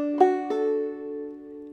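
Clawhammer banjo plays one measure of Soldier's Joy, two quick plucked attacks followed by a ringing, slowly fading note, close and alone.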